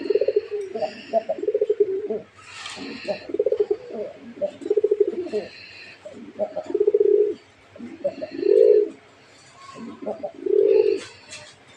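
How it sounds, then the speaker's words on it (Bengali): A male Raj Golla pigeon, held in hand, coos close and loud in a series of repeated throaty rolling phrases with short pauses between bursts. "আমার হাতে যেটা আছে এটার মাঝেই দেখি কবুতরের ডাকটা"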